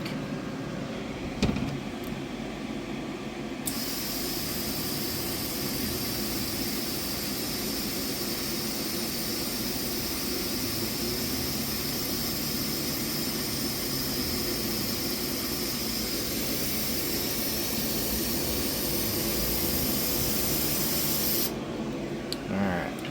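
A Full Spectrum Muse CO2 laser cutter test-cuts a circle in 5-layer 1/4 inch birch plywood, with a loud, constant rushing hiss of air that runs unbroken for the whole cut.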